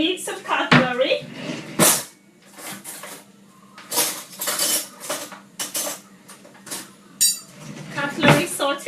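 Metal cutlery is taken out of a kitchen drawer, a run of close, bright clinks and jangles with drawer knocks, and a person talks between the bursts.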